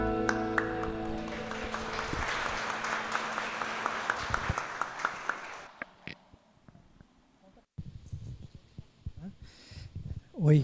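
Congregation applauding during a Nazarene church worship service, a dense wave of clapping with a sustained musical tone underneath that fades after about five seconds, followed by scattered claps and speech.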